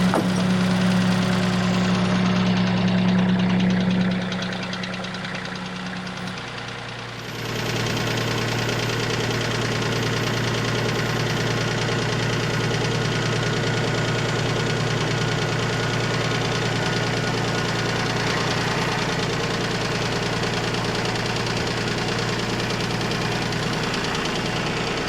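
A tractor engine runs steadily outdoors, a loud continuous low rumble with a knocking beat. Its tone drops briefly and then settles back to an even idle.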